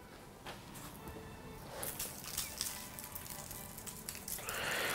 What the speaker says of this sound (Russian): Это шум от падающей на бумагу соли